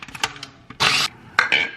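Garlic being ground by hand, a few short scraping and crunching bursts with uneven pauses, close and fairly loud, no talking.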